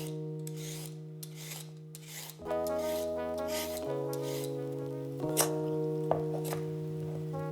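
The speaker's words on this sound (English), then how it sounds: "I've got 2 carrots, just gonna peel off the outer skin." Two carrots have their outer skin peeled off with steady, repeated rasping scrapes, close and clear, over sustained background music.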